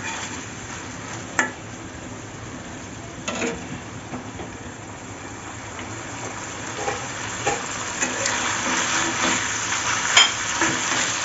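Kochur loti (taro stolons) frying alongside hand-mashed poa fish and hilsa head, turned over in the pan: a steady close oil sizzle with scattered soft clinks and scrapes of stirring, building slightly louder toward the end.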